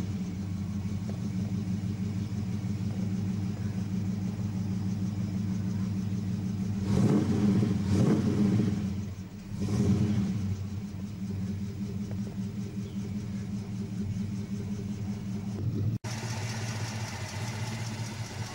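A 1974 Ford XB coupe engine idles with a steady low rumble, then revs sharply twice in quick bursts before settling back to idle.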